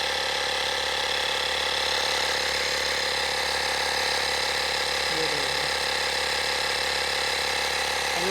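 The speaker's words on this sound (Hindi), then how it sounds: "कंप्रेसर ऑन हो गया है और ये देखो हवा भर रही है।" A portable car tyre inflator compressor pumps air into a tyre with a steady, continuous motor drone and buzzing hum that holds level throughout, no voices.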